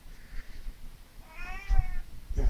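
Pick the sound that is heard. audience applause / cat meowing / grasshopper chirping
cat meowing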